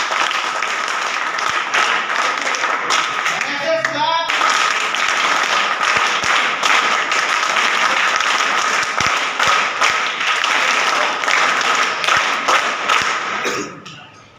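An audience at a university National Service Scheme gathering applauds the chief guest, dense sustained clapping that holds loud and even for many seconds before fading out at the close.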